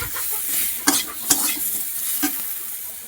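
Potatoes sprinkled with cumin powder sauté for a hilsa and green banana curry, a constant close sizzle punctuated by three distinct scraping stirs of a utensil against the pan, with no voices.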